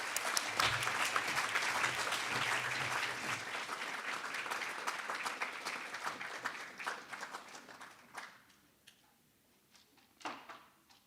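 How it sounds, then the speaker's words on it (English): Audience at a youth work awards ceremony giving a warm round of applause, loud dense clapping that slowly thins out and fades to a few scattered claps and room noise. "give a warm round of applause for Betty."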